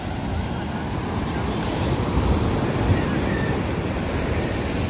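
Small sea waves washing onto a beach, a steady broadband surf wash under constant wind buffeting on the microphone, with no talk over it.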